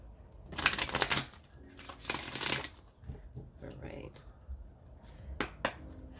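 Quick riffling bursts of a card deck being shuffled, several brisk rounds close by, with light taps and shuffling in between.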